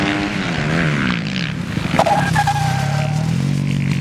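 A motorcycle engine revs and whines through changing pitches during a stoppie and drift, with tire squeal and a rising, sustained roar as the bike slides, loud and close.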